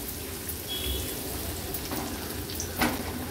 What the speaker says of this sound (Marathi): लसूण पण तेलावर थोडासा आपण असा परतून घेतला आहे